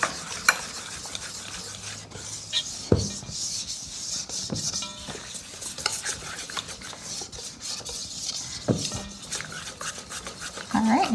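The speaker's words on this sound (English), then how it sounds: "So you stir it after each addition." A spoon stirring flour into homemade dinner roll dough in a bowl, making steady scraping, swishing sounds with occasional sharper knocks against the bowl, close and moderately loud, with faint kitchen background.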